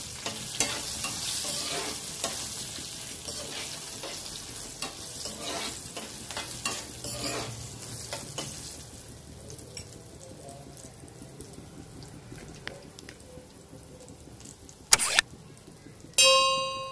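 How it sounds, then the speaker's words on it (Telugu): Green chillies sizzle and crackle in a hot pan while being stirred, with steady frying hiss and scraping strokes; the sizzle softens midway, and a couple of sharp utensil clanks ring out near the end. "ఈ పచ్చిమిర్చి గోలుతుంటేనే కొంచెం పసుపు అయితే వేసుకోవాలి."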